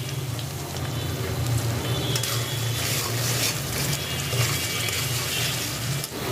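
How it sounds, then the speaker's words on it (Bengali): Spices with dried red chili powder and turmeric fry in oil while being stirred for a mutton bhuna, giving a close, continuous sizzling hiss with soft scraping throughout. "এখন হচ্ছে মশলা কষিয়ে নিচ্ছি।"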